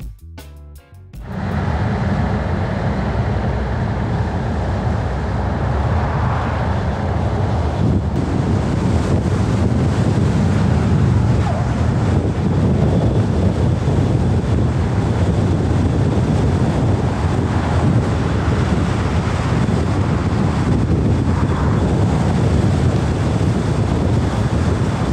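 Heavy wind roar buffeting a GoPro Hero 8 mounted on a car driving at high speed, loud and steady for the whole stretch after a short start.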